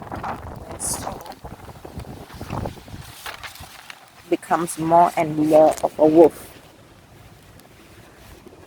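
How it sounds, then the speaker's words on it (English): Wind buffets a microphone outdoors in gusty, rumbling bursts while someone speaks over it, the gusts swelling loudest midway then easing. "Sorry for the wind, it's really windy out here."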